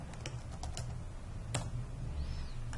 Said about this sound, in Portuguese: Vamos digitar o comando mt backup